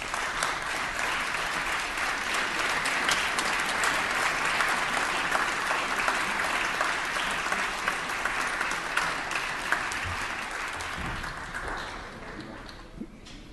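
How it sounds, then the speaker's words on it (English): Sustained applause fills a legislative chamber, a dense steady clapping from many members that holds for over ten seconds before thinning and fading near the end. "a round of applause for all his service"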